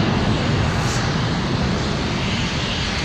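Icelandair Boeing 757 engines roar steadily at London Heathrow Airport under a low cloud base, a loud, broad, continuous jet noise with no voices.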